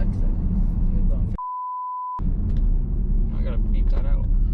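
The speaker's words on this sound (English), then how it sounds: "I gotta beep that out." A steady electronic censor tone cuts across a man's speech for under a second inside a car, with road rumble dropping out while it sounds. Talk resumes right after.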